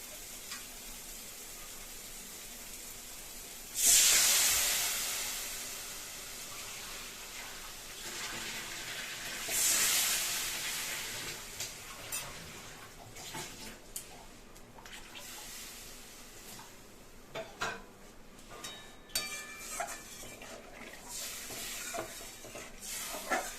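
Water is poured into hot oil with spices for a Bengali tangra fish curry, setting off a sudden loud hiss that keeps sizzling and bubbling, then flares again as more is added, with stirring noises over a steady frying backdrop.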